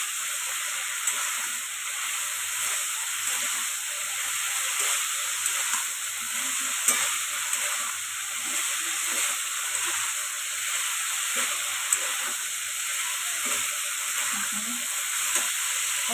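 Previously fried potatoes with spices sizzle and hiss steadily in a hot pan during stir-frying, with occasional soft scrapes and stirring taps, close and continuous without talk.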